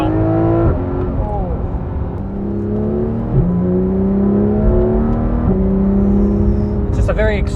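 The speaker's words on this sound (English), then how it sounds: "It's just a very exquisite noise. This is the stock exhaust." A 2016 Porsche 911 GT3 RS with stock exhaust revs hard and close, climbing sharply through the gears with a rising wail and quick dips at each shift. Speech can be heard over the engine.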